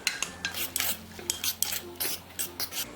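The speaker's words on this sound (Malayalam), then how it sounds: "ഈ അരപ്പ് ഇതിലേക്ക് ഒഴിച്ച് ഇളക്കി കൊടുക്കാം." A spoon scrapes and stirs ground coconut paste into cooked cucumber in a metal pot, with repeated rhythmic rasping strokes, close and fairly loud.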